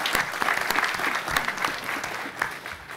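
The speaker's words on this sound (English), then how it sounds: "a round of applause for Leslie and her team for doing this" A conference audience gives a round of applause, a steady wash of clapping from many hands at moderate level, continuing evenly for about three seconds.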